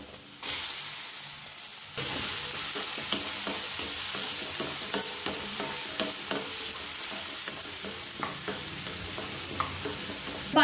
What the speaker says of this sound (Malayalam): ഇനി ഇതേ നെയ്യിലേക്ക് തന്നെ അരിഞ്ഞു വെച്ചിട്ടില്ലേ നേന്ത്രപ്പഴം അതും കൂടി ഇട്ടിട്ട് ഒന്ന് വഴറ്റിയിട്ടെടുക്കുക.